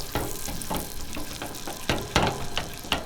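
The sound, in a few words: food being scrambled and sizzling in a pan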